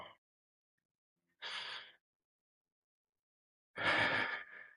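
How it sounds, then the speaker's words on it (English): Two deep breaths during a seated yoga twist: a soft sigh-like inhale, a pause, then a longer, louder exhale that trails off, close and alone without any talking. "Taking a deep breath and exhale."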